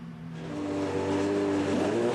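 A GT4 race car, the number 55, pulls out of the pits at Oschersleben during a 2009 GT4 European Cup round. Its engine rises steadily in pitch as it accelerates, heard at moderate distance.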